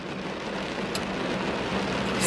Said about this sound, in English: I hope y'all can hear me over this rain